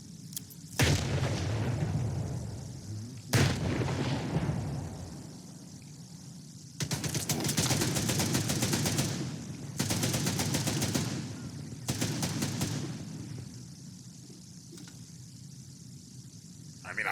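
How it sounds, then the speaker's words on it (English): Grenade blasts and gunfire in S.T.A.L.K.E.R. 2 on Veteran difficulty: sharp booms near the start, then several long, loud bursts of automatic fire separated by pauses, with a player's voice in the lulls. "Throw some grenades."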